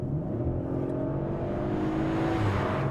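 A 2023 Audi RS5 Competition with a V6 engine accelerates hard, a steady, loud, rising engine drone with no gaps and no voices.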